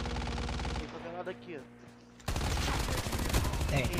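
Rapid gunfire from the video game Call of Duty: a quieter stretch with scattered shots, then a dense, loud burst of automatic fire from about halfway on, with a player's voice talking over parts of it.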